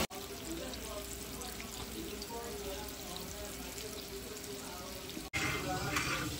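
Fish fries in a pan in a home kitchen with a steady, soft sizzle that runs throughout, briefly cuts out near the end and then returns slightly louder.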